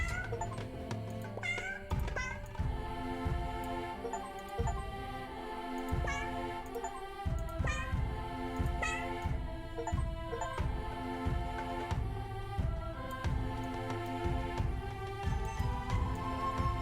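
Game cats in 100 Cats, levels set in Africa, Aztec ruins and the ocean, meow again and again over a steady music bed, with short bright mews popping up every second or so throughout, clear and close.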